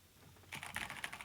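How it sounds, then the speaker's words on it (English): Angry typing on a computer keyboard, opening with near silence and then breaking into a quick, close run of sharp key clacks. "That was me typing in anger."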